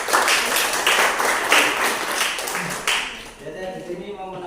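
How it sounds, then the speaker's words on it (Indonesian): A classroom group claps during a micro-teaching session, giving several seconds of dense, fairly loud applause that thins out near the end as a voice begins speaking. "Kita beri aplaus terlebih dahulu."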